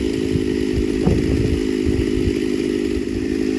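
A ported Homelite Super XL-925 82cc chainsaw runs steadily at high revs throughout, a loud continuous buzzing drone with slight load changes as it cuts.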